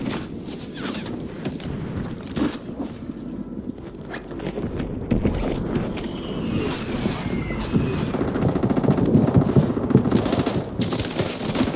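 Gunfire in the video game Warzone, dense bursts of automatic shots crackling continuously over a busy, noisy battlefield backdrop for the whole stretch.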